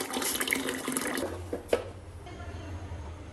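Tap water runs into a pot being topped up for tea in a home kitchen, a steady splashing stream that fades to a softer trickle, with a couple of brief clanks partway through.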